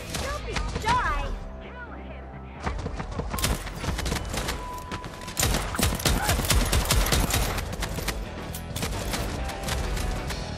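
Rapid bursts of gunfire from the video game Deathloop, dense sharp shots in clusters with brief gaps, loud and close throughout, with a player's voice briefly audible among them.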